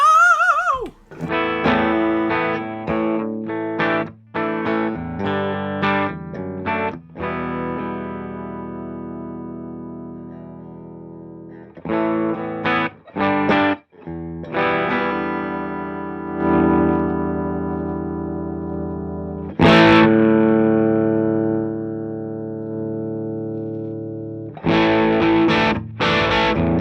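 Distorted electric guitar played through a UA Ox Box amp with a Vox setting into a 2x12 cabinet, loud chugging chords and ringing sustained notes with short pauses, alone with no voices.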